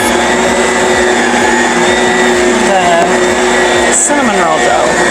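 A stand mixer kneading cinnamon roll dough made with khorasan flour hums loudly and steadily with a regular rhythmic knock from the dough hook, running under speech.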